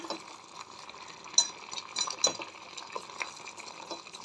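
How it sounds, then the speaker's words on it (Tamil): Quiet stirring with a spoon against a pot, small clinks and scrapes as sugar is mixed in, over a soft bubbling of boiling liquid. "இப்போ நல்லா 1 ஸ்பூன் ஜீனி போட்டு கலக்கிறோம்"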